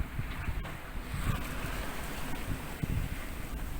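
Steady wind rushes over a sailing boat at sea in a 20-knot breeze under heavy cloud, forming a continuous broadband roar with low gusty rumble and occasional water slaps, with no voices.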